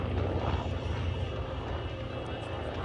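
A Corsair World War II fighter plane flies at an air show, its engine giving a steady, loud, broad roar that fills the clip.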